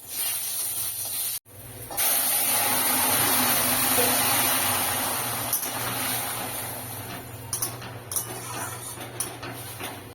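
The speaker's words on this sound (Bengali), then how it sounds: "এবার আবার কড়াইটা ধুয়ে তেল দিয়ে ফোড়ন দেব ফোড়ন দিচ্ছি রাঁধুনি" Radhuni seeds hit hot oil in a wok for tempering, a loud close hiss that bursts in after a brief break and then sizzles steadily, easing slightly, with a few light clicks near the end.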